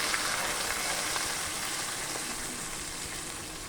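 Lentils fry in hot ghee with cumin, dried red chillies and bay leaves, giving a steady, close, hissing sizzle that holds evenly throughout with no talk.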